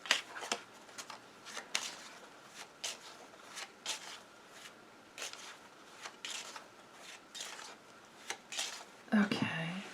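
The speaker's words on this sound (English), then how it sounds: "Let me draw some more cards on that." Tarot cards are shuffled and drawn up close, giving quiet papery flicks, rubs and soft slaps in an irregular run, with a sharper rustle near the end.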